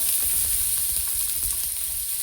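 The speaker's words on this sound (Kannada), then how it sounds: "ತೆಂಗಿನಕಾಯಿ ಹಾಗೆ ಈರುಳ್ಳಿ ಎಲ್ಲನೂ ಫ್ರೈ ಮಾಡ್ಕೊಳ್ತೀನಿ" Green chilies, garlic, coconut and onion fry in a hot pan, giving a steady, close, even sizzle with faint stirring scrapes and no voices.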